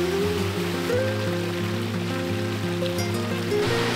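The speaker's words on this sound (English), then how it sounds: "It is the only spring-fed waterfall in Karijini National Park." A spring-fed waterfall in Karijini National Park, Australia, roars in a steady, loud rush, with a continuous deep rumble and no voices.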